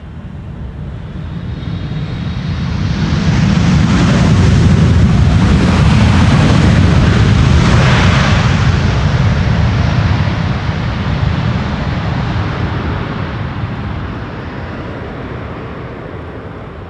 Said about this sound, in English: China Cargo Airlines arriving from Shanghai in China